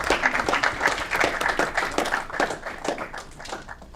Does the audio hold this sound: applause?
yes